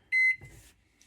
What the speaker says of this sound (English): Oh, you stubborn microwave.